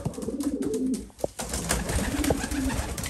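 Pigeons excited while being paired for breeding, cooing in low throaty calls against a rustling, fluttering background, close by and continuous without talk.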